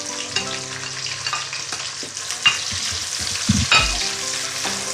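Onions sizzle and crackle in a hot pan for a chicken stir fry, with a spatula stirring and scraping in short irregular bursts close up and no talking.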